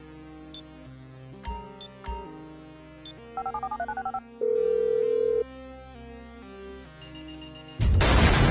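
A phone call dialed in Grand Theft Auto V: a series of distinct dialing beeps and tones, a rapid run of keypad tones, then a long steady tone before a burst of noise at the end.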